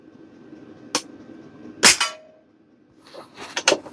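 A Pinty Nightfall .22 regulated air rifle discharges in one sharp, close crack, followed by fainter clicks and metallic handling noises.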